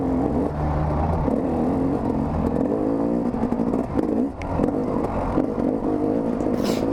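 Motocross-set dirt bike ridden hard through a rutted pine-woods race course, the engine droning and revving continuously up close with bursts of clatter as the bike bounces over roots and bumps.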